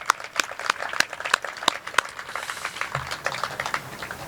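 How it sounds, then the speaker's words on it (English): Applause at an annual membership meeting of a trail conservation association, heard as a thin scattering of individual claps with sharp separate hits, moderately close, then fading into murmuring room noise. "Now applause."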